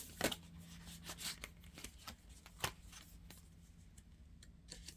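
Tarot cards are shuffled by hand at close range, a series of soft riffling bursts and crisp snaps at irregular intervals, fading toward quieter rustles at the end.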